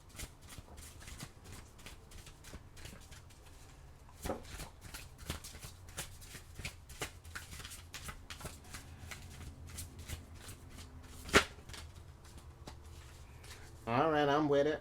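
Tarot cards are shuffled in a long run of quick, crisp riffling clicks at close range, with a couple of sharper taps along the way and a brief louder flutter at the very end.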